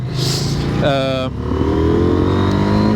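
A 2023 KTM 890 SMT twin-cylinder motorcycle engine revs up sharply, rising and falling in pitch, loud and close, with a voice speaking over part of it.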